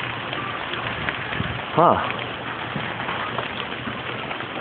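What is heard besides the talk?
heavy rain during thunderstorm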